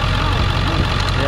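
A work truck engine idles close by, a steady low rumble with an even pulsing throb that fills the short moment without a break.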